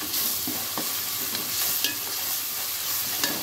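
Onions frying with salt in a pan for tuna fish gravy give a loud, continuous sizzle, with a few sharp scrapes as the mixture is stirred.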